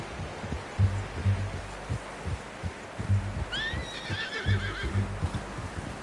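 In Red Dead Redemption 2, a horse gives a short, clear whinny midway through, rising and falling over a low, rhythmic thudding of hooves and rustling in the background.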